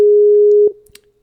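A steady electronic phone ringing tone from an unanswered call holds for over half a second, then cuts off, followed by a few faint clicks and handling noises.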